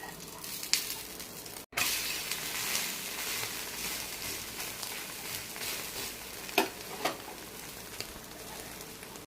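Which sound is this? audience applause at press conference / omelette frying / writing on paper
omelette frying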